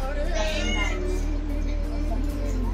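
A cat meows a few times indoors during a home Ganpati festival. The meows are mixed with household voices, and a steady low electrical hum runs throughout.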